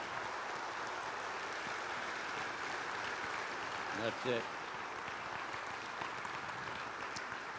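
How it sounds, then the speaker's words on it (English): Steady, dense applause from a large audience at a Catholic men's conference, a continuous wash of many hands clapping throughout with a brief voice rising in the middle. "Gentlemen, let's give a round of applause in Thanksgiving."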